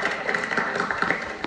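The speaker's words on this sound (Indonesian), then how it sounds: "Coba tepuk tangan dulu aja." A studio audience claps on a Sunday-night Indonesian talk show, a short burst of scattered, uneven hand claps close by, with no speech over it.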